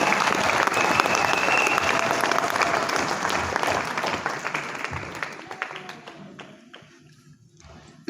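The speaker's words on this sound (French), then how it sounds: "Est-ce qu'on peut acclamer le Seigneur?" Church congregation applauding loudly and steadily for several seconds, the dense clapping gradually thinning and fading toward the end.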